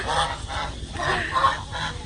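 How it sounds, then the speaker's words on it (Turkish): Geese and ducks at a zoo in Phuket give a run of repeated, fairly loud honking calls close by during feeding, with no voices. "Kazla ördek ikisi de varmış burada"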